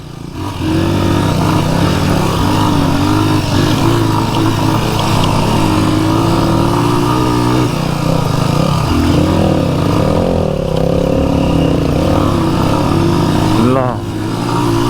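A motorcycle ridden along a cycle track gives a loud, close, continuous engine drone with slight shifts in revs, while people talk over it.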